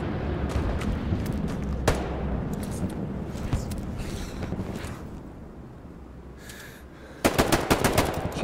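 Machine gun fire in the video game Hell Let Loose, with scattered distant shots and rumble before a loud, rapid burst near the end.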